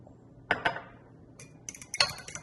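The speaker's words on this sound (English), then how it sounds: "And continue to mix again." Ingredients being mixed in a bowl with a utensil, a few close, sharp metallic clinks and scrapes in irregular bursts against a quiet background.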